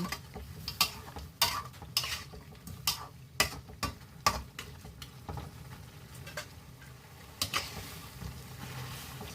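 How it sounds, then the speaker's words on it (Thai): A spatula scrapes and taps against a pan in irregular bursts while chicken with seasonings sizzles quietly underneath, close and fairly soft. "ผัดส่วนผสมและเครื่องปรุงทั้งหมดให้เข้ากัน"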